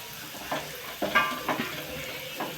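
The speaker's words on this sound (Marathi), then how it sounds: "आता तिखट मीठ धना पावडर सगळं सोबत टाकून आता मोठा केलेला आहे गॅस" Spices sizzle and fry in a hot pan over a raised gas flame as chili powder, salt and coriander powder are stirred in, with a few soft scrapes of a spoon over a steady crackle.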